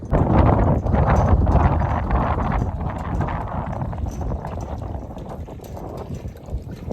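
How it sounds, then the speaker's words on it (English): An old windmill pumps water into a livestock stock tank outdoors, giving a steady rhythmic clanking and creaking under loud, constant wind noise. "This old windmill's taking care of it right now."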